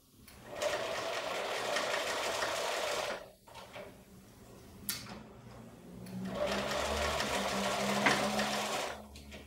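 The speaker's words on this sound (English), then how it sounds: "I'm just going to sink my needle down, stitch a couple stitches, backstitch, and then just go forward" A sewing machine stitches fabric for a patchwork pillow, running in two steady whirring bursts with a brief pause and small clicks between them, close and alone.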